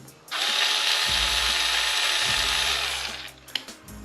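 A Piranha 2227 cordless screwdriver, freshly unboxed, spins up with a steady high-pitched motor whir for about three seconds, then winds down with a few small clicks.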